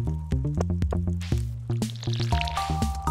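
Watering crops in the farming video game Stardew Valley, with repeated short plinking water-drop effects layered over a bright, tonal game music background.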